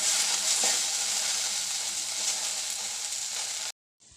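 Okra masala frying in oil, a steady, fairly loud sizzle with faint stirring that runs on evenly and then cuts off abruptly just before the end.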